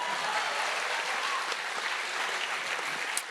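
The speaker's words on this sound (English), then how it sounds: "Do I get a clap for that?" Audience clapping at a stage show, a soft, steady wash of applause heard from a distance for a few seconds.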